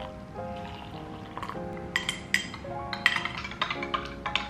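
Homemade pumpkin spice latte mixture poured into a cup, a soft liquid trickle with light clinks of glass or ceramic, faint and close, no talk.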